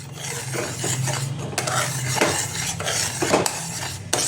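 Metal utensil scraping and clinking against a pan while caramelizing sugar is stirred for an eggless plum cake, with steady close scraping and a faint sizzle underneath, no voices.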